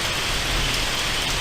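Heavy rain falls steadily during a thunderstorm, a dense, even hiss of drops close by that stays constant with no voices.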